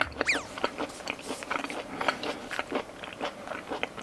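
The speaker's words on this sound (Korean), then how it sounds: "씹는 소리가 들리실지 모르겠는데" Wet, crunchy chewing of raw beef with garlic and gochujang up close, a steady run of bites and mouth noises with no talking.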